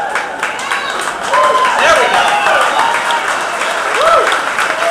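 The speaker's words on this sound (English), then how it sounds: "Stand up or cheer if you're under age of 21" A crowd of young attendees at an outdoor Fourth of July Tea Party rally in Washington, Missouri, cheering and clapping loudly and steadily, with whoops rising over the applause and a voice speaking briefly.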